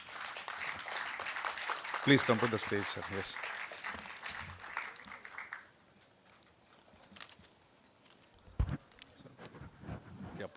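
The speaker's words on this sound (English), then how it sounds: "Please give them a big round of applause." Applause from a film festival audience greeting documentary filmmakers, scattered clapping swelling then fading after a few seconds, with someone speaking over it and a loud thump near the end.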